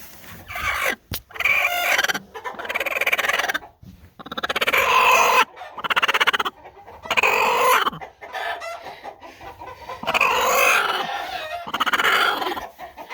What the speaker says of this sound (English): she got all excited and broody, and now the roosters are all excited about it